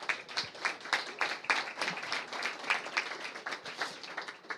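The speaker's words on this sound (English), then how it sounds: "a big round of applause for our panelists." An audience at a panel discussion on risk and resilience applauds, a steady patter of many hands clapping at moderate distance, fairly soft and unbroken throughout.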